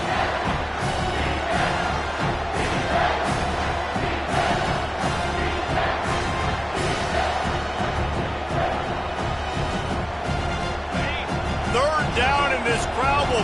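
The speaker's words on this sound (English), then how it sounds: "this crowd will blow out a vocal cord to help this defense" Loud, roaring football stadium crowd cheering and yelling to back the home defense, a dense, continuous wall of voices with swelling shouts and an announcer talking over it.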